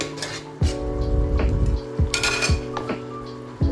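Fried fish heads lifted one by one from a pan with a utensil, producing sharp metallic clinks and knocks at irregular intervals, close up over a soft frying background.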